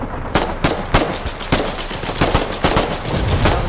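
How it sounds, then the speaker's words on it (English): Rapid gunfire from the video game Foxhole, with fast bursts of automatic shots rattling steadily close by through the whole stretch, no talk over it. "Shoot it. Just shoot it. Just shoot it."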